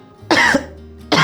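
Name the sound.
patient coughing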